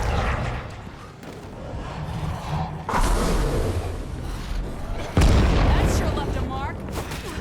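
Explosions from a bomb in the zombie survival game State of Decay 2, with two heavy booming hits, one near 3 seconds and a louder one near 5 seconds, over a continuous rumbling game soundscape.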